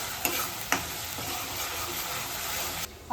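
Masala sautéed in a pan for a mutton dish: a loud, continuous fry sizzle broken by a few distinct spatula scrapes as it is stirred, close up and without speech.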